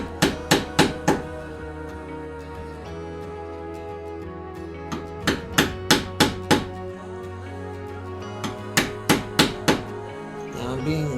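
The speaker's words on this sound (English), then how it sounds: "I'm going to bring my chisel back with the bevel up, a couple of little taps" A wood chisel is tapped into a mortise with its bevel up, giving two tight clusters of four or five sharp knocks, each cluster separated by quiet stretches, close and clear with a faint low hum underneath.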